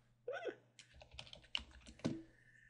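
Typing on a computer keyboard while building a web page, a brief burst of close, quiet key clicks with irregular rhythm and a few sharper taps.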